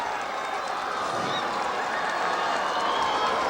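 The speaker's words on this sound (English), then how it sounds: "I can just hear the applause" Crowd applause at JFK Plaza for a homecoming celebration after a parade: a steady, dense wash of clapping and cheering that holds at an even level for the whole stretch, with no clear individual voices.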